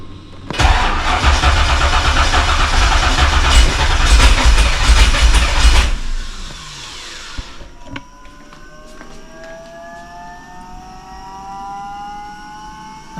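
A VL Calais engine fitted with a Harrop 2300 blower cranks and fires, running loud and close for about five seconds before cutting out, followed by a faint rising whine and light clicks in the quiet.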